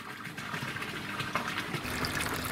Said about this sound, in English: It might be a bit hard to hear though with all this water running underneath the bed.